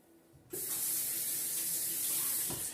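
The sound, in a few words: rinsing ginger under running tap water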